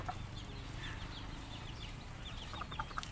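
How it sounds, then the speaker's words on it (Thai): Chickens cluck in an outdoor garden with farm animals, a scatter of short, soft clucks over a steady low background hum, moderately distant and with no speech. "อันนี้ไก่ค่ะไก่"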